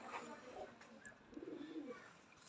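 Kasuri pigeons with dub markings in a breeding setup give soft, low cooing that swells and fades, fairly close, with faint chirps and a quiet background voice at moments.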